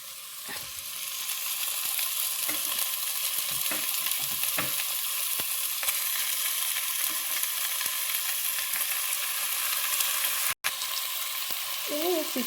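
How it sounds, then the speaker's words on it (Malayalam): Chicken pieces frying in hot oil with spices for biryani: a loud, steady sizzle runs throughout, broken by soft stirring scrapes and a brief pause near the end. "പൊടികളുടെ പച്ചമണം മാറി കഴിഞ്ഞാൽ പിന്നെ നമുക്ക് ചിക്കൻ ഇട്ട് കൊടുക്കാം."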